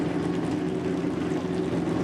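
A pair of Kawasaki race boats at the Hooked on Speed 2025 event run together, their engines forming a loud, steady, continuous drone without voices.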